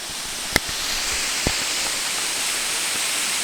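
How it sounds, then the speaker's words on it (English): Rushing water from a waterfall in a creek gorge at Hanging Rock State Park, North Carolina, makes a steady broad hiss heard from a distance. Two sharp knocks from nearby footsteps or brush stand out early on. "the sound of rushing water leads me to believe that there could be some big falls over there"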